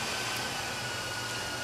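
Sun X4100 M2 server fans whirring at low speed after power-off, a steady broadband airy hum heard up close with no talking.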